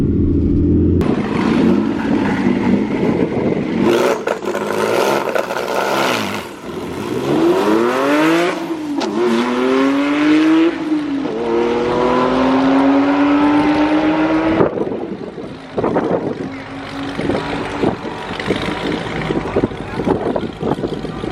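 A 2020 Toyota Supra launches hard from about 2,000 rpm. The engine revs loud and close in rising sweeps with gear-change dips, then keeps roaring continuously at high power throughout.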